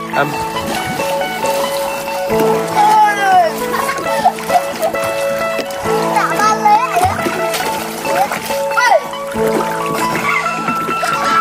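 Children splash while bathing in a river, with irregular watery slaps and sloshes throughout, mixed with lively children's chatter and high calls that run over most of the stretch.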